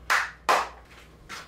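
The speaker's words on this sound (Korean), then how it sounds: "박수 두 번 치면 들어올 거예요" Two sharp hand claps close up, then a softer third, used as a signal in a home kitchen while preparing a giant spoon worm; no talking.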